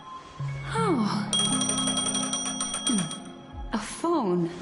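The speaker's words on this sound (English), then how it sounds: "A phone." A phone rings in Honkai Star Rail, sounding as repeated electronic ringtone tones with gliding chirps, mixed with other game sounds and a brief voice-like sweep.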